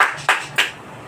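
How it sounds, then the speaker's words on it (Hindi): A few sharp hand claps ring out in a church congregation during a Sunday Holy Communion meeting, roughly three distinct claps spaced evenly and close by, with no talking. "प्रभु के लिए तालियां।"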